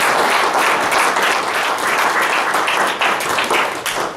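An audience at a Rotary Club meeting applauds, dense continuous clapping filling the room for several seconds and only thinning slightly at the very end.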